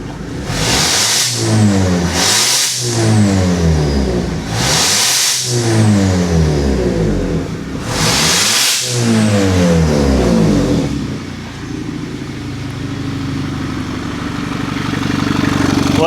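An Audi A5 with a 6-speed manual and a clogged catalytic converter starts and revs hard in four loud, rising bursts, its exhaust blasting out built-up debris, then settles into a rough, steady idle.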